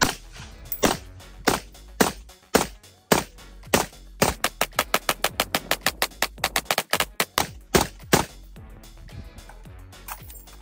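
A PSA JAKL rifle fires a full magazine outdoors, loud sharp shots, some spaced and others in a rapid string of evenly paced rounds, with no talk over them.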